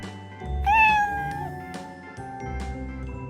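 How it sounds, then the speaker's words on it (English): A cartoon-style cat meows once over a bouncy children's song, with a clear rising and falling mew near the start and music continuing underneath. "C is for cat."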